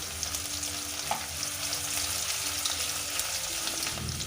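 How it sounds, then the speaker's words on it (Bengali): Chicken marinated with ginger-garlic paste fries with onions in a pan while being stirred, a continuous close sizzle with light scraping and spattering, no voices. "এটাকে একটু নাড়তে হবে"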